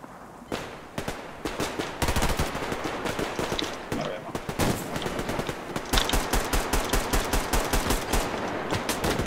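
Rapid automatic gunfire from the video game Survarium, with dense repeated bursts of shots running nearly the whole time, loud and close, and a voice briefly heard between volleys.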